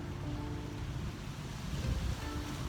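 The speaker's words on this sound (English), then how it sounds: "Thanks, wind. Wind approves." Outdoor wind gusts buffet the microphone, producing a loud, continuous low rumble and roar that swells slightly toward the end, with no speech.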